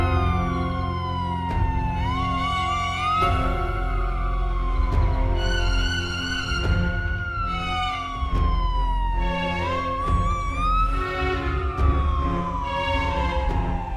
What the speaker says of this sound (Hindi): ये तो पुलिस की गाड़ी की आवाज है।